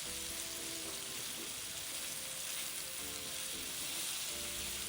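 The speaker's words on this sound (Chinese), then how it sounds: "炉调至中低火，将苹果炒软。" Apple pieces stir-frying in melted butter in a pan over medium-low heat give a steady, dense sizzle that holds through the whole stretch, with faint stirring underneath and no voices.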